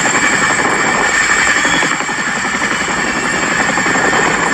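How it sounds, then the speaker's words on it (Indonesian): A tandem-rotor Chinook helicopter flies overhead, its steady loud rotor thump and engine roar continuous and close throughout. "Kalau yang ini helikopter Chinook."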